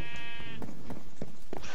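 Sheep bleating in a video game: one short, wavering bleat over steady game background noise, with quieter clicks and thumps following.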